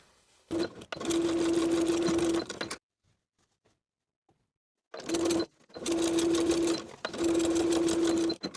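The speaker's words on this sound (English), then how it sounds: "Then we can press that small seam to one side and top stitch from the front." A sewing machine topstitching a jeans crotch seam runs in loud bursts, two long stitching runs, a pause of near silence, then three more runs, with a steady motor hum under the needle's rapid rattle.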